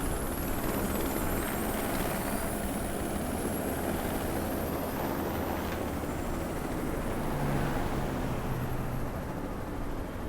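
Helicopter flying in the video game Watch Dogs, a steady dense rotor and engine roar filling the scene throughout, loud and continuous with no speech.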